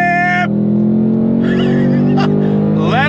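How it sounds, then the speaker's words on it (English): A 2024 Ford Mustang Dark Horse engine roars loud and close, holding a strong sustained rev with rising pitch at the end, a voice briefly talking over it. "Let her just rev on out."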